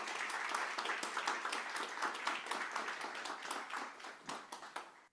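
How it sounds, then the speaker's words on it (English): Audience applause closing an online lecture on digital twins and artificial intelligence in biomedicine, thanking Professor Cerutti. Steady, fairly soft clapping runs about five seconds, dense and even, then thins out and fades at the end. "Final round of applause for Professor Cerutti"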